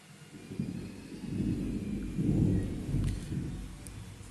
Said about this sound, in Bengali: বাইরে মেঘের ডাক,